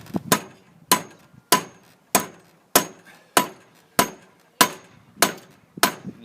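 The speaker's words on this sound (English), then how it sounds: "So I'm pounding the 2 sides flat." A hammer pounds the ends of a metal strut flat for a geodesic dome, landing about ten loud, evenly spaced blows with a sharp ringing metallic impact, each one decaying quickly before the next.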